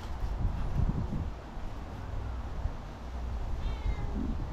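A cat meows a few times, a soft near call among faint rustling and low background noise, with no talking.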